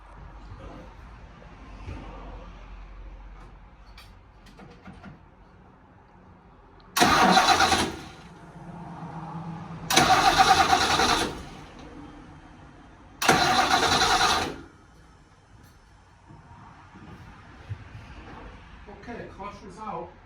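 A 1970 Mercury Cyclone with a 429 CobraJet engine cranks over in three separate bursts, each lasting a couple of seconds, with quiet pauses between them and no catch. The cranking is fairly close and loud, and people talk faintly in the gaps.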